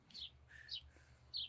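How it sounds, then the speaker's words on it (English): Three short, faint bird chirps come at roughly even intervals over a low background hum. "I hear chirp chirp."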